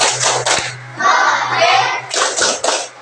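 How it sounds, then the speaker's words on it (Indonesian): A classroom of children clapping a rhythmic pattern, bursts of quick claps separated by brief pauses, with a low hum underneath. "coba tepuk kelima"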